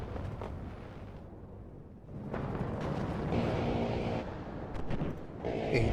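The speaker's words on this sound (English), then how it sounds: "A new artillery from blue, firing towards the ATGM in the zone, in the south." Distant artillery fire and explosions rumble through a WARNO real-time strategy battle. Broadband booms swell and overlap, growing denser over several seconds and landing as muffled impacts rather than sharp close cracks.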